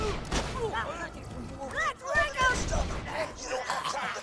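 Gunfire from a gun in Borderlands: The Handsome Collection, fighting a Goliath enemy, with scattered shots and game effects mixed under steady talking throughout.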